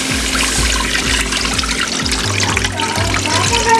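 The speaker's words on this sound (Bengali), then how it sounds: "এই কড়াইতে আমি এখন পানি অ্যাড করে দেব।" Water is poured into a wok while beef haleem is cooked, a steady close splashing trickle heard alone under a faint low hum.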